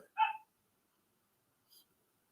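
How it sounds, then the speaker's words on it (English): A dog outside barking to be let in gives one sharp, close bark, followed by silence and a faint short sound near the end. "He's barking to get in."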